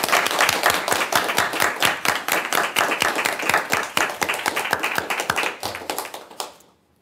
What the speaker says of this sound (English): a round of applause for Kalyan and Mohamedou.